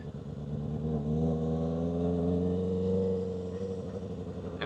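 A motorcycle accelerates up through the gears to third, its engine a steady, loud drone close by, rising in pitch in stretches with brief dips at the shifts, and no one talking over it.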